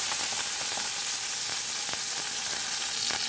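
Garlic and spring onion leaves sautéing in hot oil for a stir-fried potato dish, giving a steady close sizzle and crackle from start to finish with no talking.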